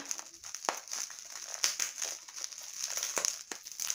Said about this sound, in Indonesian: ini dia paketnya seperti ini packagingnya jadi yuk mari kita unboxing dulu paketnya